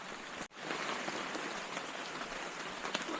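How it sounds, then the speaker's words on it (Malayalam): Rain falls in a steady, even hiss of many small drops on surfaces, beginning after a brief dip and continuing softly throughout without any voices. "ഓ, മഴ പെയ്യുന്നു."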